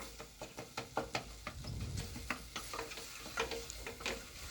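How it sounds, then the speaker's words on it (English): Beans with curry powder being stirred in a cooking pot: soft, repeated scraping and clinking strokes in a steady rhythm, close and fairly quiet, with a faint sizzle beneath. "So we keep on stirring. Keep on stirring."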